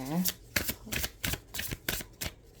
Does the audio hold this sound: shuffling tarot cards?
yes